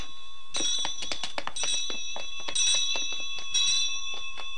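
Bell ringing in rapid repeated strikes, bright metallic dings in quick bursts that overlap into a continuous clangor, close and loud, with no talking.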